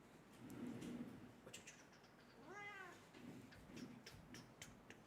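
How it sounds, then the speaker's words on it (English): Indoor house cat giving one short rising meow in the middle of a quiet room, faint and close, with low rustling before and after and no talk. "I'm annoying my cat at the moment, Andrews,"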